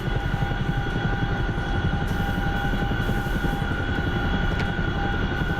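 Steady, dense helicopter rotor and turbine drone of an Apache gunship in the DCS flight simulator, a continuous loud thrum with constant whine tones running throughout, no talk over it.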